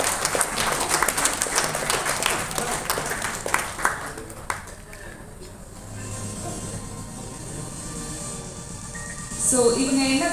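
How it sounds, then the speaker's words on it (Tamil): Audience applause at a product event, dense clapping for the first several seconds that thins out and gives way to quieter room sound and a voice near the end. "Once again நல்ல ஒரு பலத்த கைத்தட்டல் கொடுக்கலாம்."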